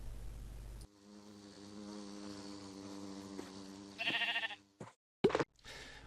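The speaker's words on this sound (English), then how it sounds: "While the bees do their job" Buzzing bees in Minecraft, a steady droning hum under low game ambience, followed by a few abrupt clicks and short bursts of game sounds.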